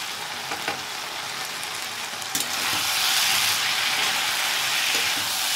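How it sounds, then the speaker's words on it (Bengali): Cauliflower with coriander powder, cumin powder, turmeric and salt sizzles steadily in a hot pan, the frying growing louder after a brief clatter of stirring. "এইটা দিয়ে আমি আবার কষিয়ে নেব একটু"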